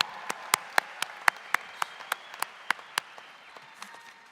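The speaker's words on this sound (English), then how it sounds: "let's give them a good round of applause" Sparse clapping at a Victor Valley College commencement for graduates' supporters, a handful of sharp, distinct claps in a loose rhythm over a quiet background, a few hands rather than a full crowd.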